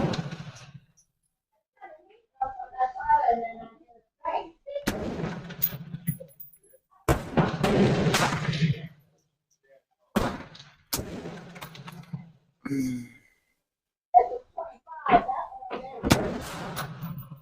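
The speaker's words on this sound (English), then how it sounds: "3 shots, and they are low." Gunshots at an outdoor shooting range, heavily processed by noise reduction: several sharp, abrupt reports spaced seconds apart, with faint voices murmuring in the quiet stretches between them.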